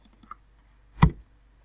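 A single sharp key press or click, brief and close, with a few faint ticks before it in an otherwise quiet room.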